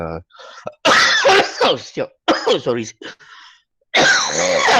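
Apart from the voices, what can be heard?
coughing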